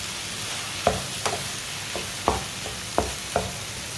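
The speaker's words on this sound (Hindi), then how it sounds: "कद्दूकस किए हुए अंडे डालेंगे। अच्छी तरह मिक्स कर लेते हैं।" Grated eggs being mixed and fried in a pan, with a soft background sizzle and about six distinct spatula knocks and scrapes against the pan, close and moderately quiet, no talking.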